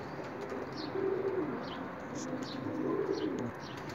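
A pigeon coos nearby in low, repeated throaty calls, with a few faint higher chirps from other birds in the background.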